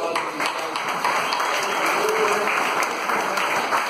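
Steady audience applause fills a church men's conference retreat hall, dense and sustained throughout with no clear voices over it.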